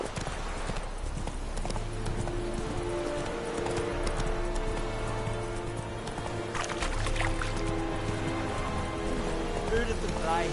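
Geralt's horse Roach gallops in The Witcher 3, with continuous rhythmic hoof clip-clops, an occasional snort, and a low hum underneath, with speech also present.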